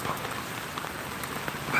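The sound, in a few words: rain falling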